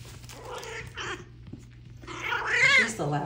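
Small seven-week-old kitten in a litter crying and hissing, faint at first then rising into louder, strained mewing near the end, with soft rustling nearby and no talk.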